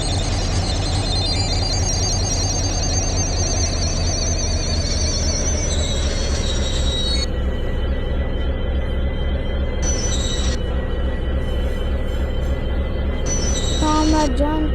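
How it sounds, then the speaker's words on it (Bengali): A WDP-4 diesel locomotive train slows down with a constant heavy rumble and clatter, while a high metallic squeal creeps in near the end. "আমরা এখন ট্রেনের স্পিডটা আস্তে আস্তে"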